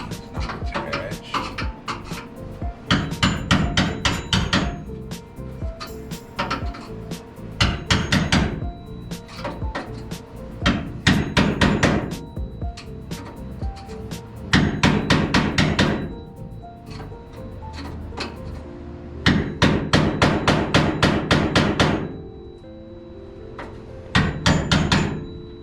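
A dent-pulling hammer works a panel on a 1949 Jeep Willys pickup passenger-side cab, with bursts of rapid, loud metallic blows separated by short pauses throughout.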